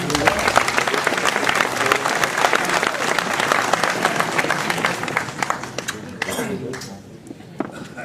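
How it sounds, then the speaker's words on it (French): An audience at a mayor's New Year address breaks into sustained applause, dense clapping filling the room before thinning out and fading toward the end. "On peut l'applaudir."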